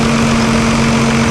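A Fendt 716 tractor engine idles steadily close by, a constant low drone with a strong hum and light vibration throughout, and no talking.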